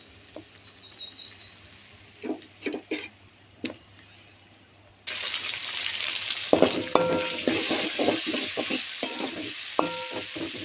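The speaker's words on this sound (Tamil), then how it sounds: "இதை பச்சை வசம் போகிற அளவுக்கு நல்லா வதக்கிக்கிறணுங்க" Tomatoes and onions sautéing for a Tamil cowpea kurma, starting with scattered quiet clinks, then a sudden loud continuous sizzle with rhythmic stirring scrapes close by, birds faintly audible.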